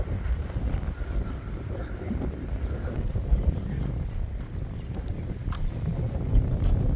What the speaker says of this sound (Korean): 바람 소리 들리시죠?